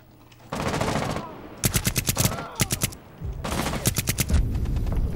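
Rainbow Six Siege gunfire: several sharp automatic bursts of rapid rifle shots separated by short pauses, loud and close, with no talk over them.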